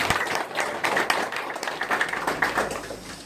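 Audience clapping at the opening of a Korean election campaign office, a steady wash of many hands applauding throughout at moderate loudness, with no speech over it.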